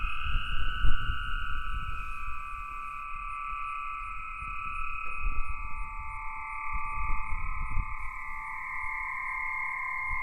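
Aeolian harp sounded by light wind blowing across a single string stretched between two buckets, giving sustained ethereal tones at a couple of steady pitches over soft low wind rumble outdoors.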